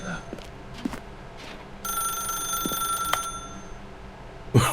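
A telephone rings in the video game The Stanley Parable, with a steady electronic trill running for about three seconds, layered over a quiet game ambience and a few light clicks.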